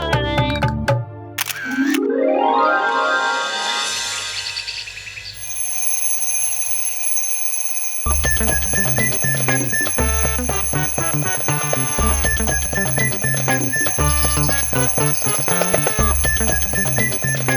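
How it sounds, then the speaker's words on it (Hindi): An alarm clock sounds amid a busy musical score, with a rising sweep, a steady high tone and a repeated rhythmic pulse running loudly for many seconds, with no voices. "ये अलार्म क्लॉक इन लोगों को जगाने के लिए होता है।"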